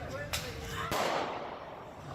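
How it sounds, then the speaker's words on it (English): A police officer fires a single sharp gunshot, one abrupt crack standing out against a steady background hum, followed by a brief rumbling tail, with a second fainter pop just before it. "fires a shot, hitting her forearm and thumb, causing her to drop the screwdriver"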